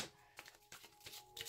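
Oracle cards being shuffled by hand, with soft papery riffles and slides in several short bursts, close and fairly quiet, with no talking.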